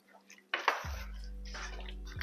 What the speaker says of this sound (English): add a little bit more water